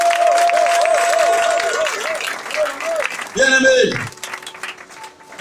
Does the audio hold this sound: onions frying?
no